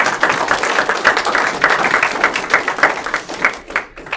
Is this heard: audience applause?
yes